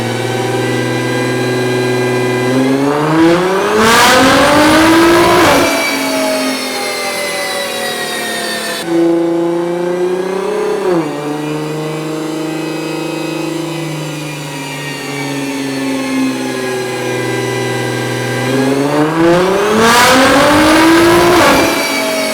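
A supercar engine on a dyno revs hard through rising gear sweeps, climbing loud and close, briefly dropping between pulls, then building again to a high-pitched scream.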